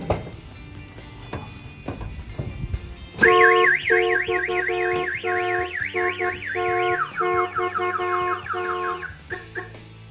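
A 1966 Ford Mustang's aftermarket car alarm blares nearby after a few seconds of quiet, cycling through loud warbling siren patterns and electronic tones, then cutting off abruptly.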